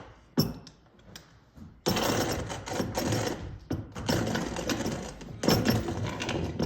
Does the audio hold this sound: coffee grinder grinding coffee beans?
yes